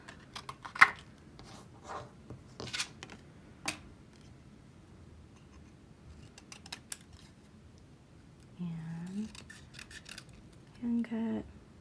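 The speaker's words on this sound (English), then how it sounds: "And now we're going to take our scissors, and we're just going to" Hand scissors cut a paper heart in a craft session, with a few sharp snips and scattered rustling and ticking of paper at close range, fairly quiet overall.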